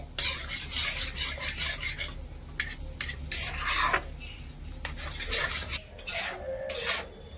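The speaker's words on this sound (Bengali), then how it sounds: "ভালো করে নেড়ে চেড়ে মিশিয়ে নেব।" Semolina and milk being stirred in a pot over low heat, a spoon scraping and rubbing against the metal in repeated close strokes with brief pauses between them.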